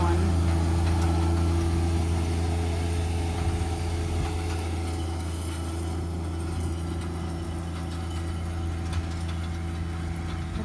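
A tractor pulling a Redlands RRR 626 six-arm hay rake through a hay field, its engine droning steadily and close with a constant low hum and rattling vibration throughout, with no voices.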